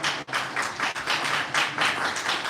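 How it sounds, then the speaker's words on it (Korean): A church congregation claps together in a steady, dense wash of applause at a 48th-anniversary worship service, close and continuous with brief dips, no talk over it. "박수로 다시 한번 축하해 주시기 바랍니다"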